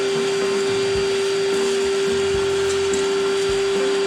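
Vacuum cleaner running with a steady, close whine and hum throughout, with faint thumps underneath and no talk.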